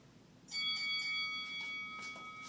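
A bright boxing bell rings out sharply and its clear tone lingers, with a few softer repeated strikes fading under background noise.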